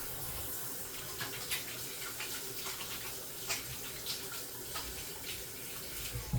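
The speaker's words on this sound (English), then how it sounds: "Let me wash my hands." Hands are washed under a kitchen tap near the stove, with water running steadily and continuously and small splashes rising now and then. No one speaks.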